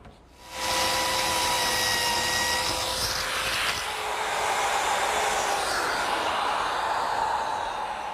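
A router cuts a hinge mortise guided by a jig, whining up sharply to a loud, steady high-pitched roar after a short quiet start, its tone shifting slightly as the bit works into the wood.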